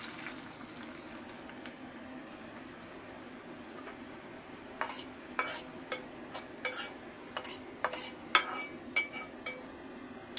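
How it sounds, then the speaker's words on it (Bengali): Browned onion tempering being added to a curry of ridge gourd and prawns in a wok, with a low steady sizzle and a series of sharp metal spatula scrapes and stirring clinks. "এবার আমি পেঁয়াজ ফোড়নটা দিয়ে দেব তরকারির মধ্যে।"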